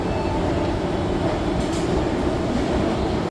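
A commuter train rumbles loudly and steadily through a busy suburban railway station, with continuous clattering wheel and carriage noise filling the whole stretch before cutting off abruptly at the end.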